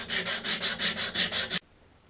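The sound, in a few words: sanding snowmobile clutches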